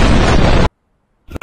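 A loud, dense explosion from a Valve video game roars for over half a second, then cuts to silence before short bursts of sound return near the end.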